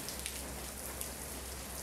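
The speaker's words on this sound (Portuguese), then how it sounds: "Aquela chuva, 5 horas da tarde." Late-afternoon rain in Itumbiara, Goiás, falling as a soft, steady hiss of drops on surfaces, faint and continuous with a few brighter patters.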